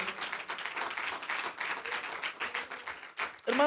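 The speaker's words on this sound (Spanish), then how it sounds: "dale un fuerte aplauso a nuestro Dios" A church congregation applauds their God after a pastor's call, brisk clapping that swells and dips over a few seconds, with a brief voice breaking in near the end.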